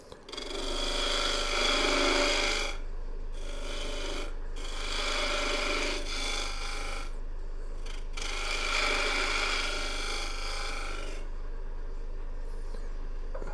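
A woodturning tool cuts a maple burl tenon on a spinning lathe, giving a close, steady raspy scraping in several long passes with short breaks, over a constant low motor hum.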